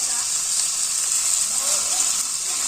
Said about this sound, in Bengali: চিকেনগুলো দিয়ে চিকেনগুলো ভালো করে ভাজা করে নিতে হবে